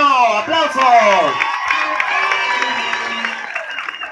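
Applause and cheering from an audience greeting the triumphant entrance of the outgoing 2018 queen at a San José geriatric home pageant, steady crowd noise with whoops over a continuous voice throughout.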